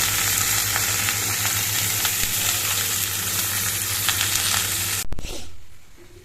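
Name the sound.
frying the ingredients for bassaaru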